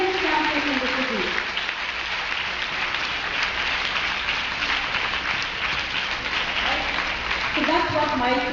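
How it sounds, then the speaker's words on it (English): Sustained crowd applause at a talk celebrating the cleanest campus in the city, a steady wash of clapping with a voice speaking over it at the start and end. "give yourselves another big round of applause"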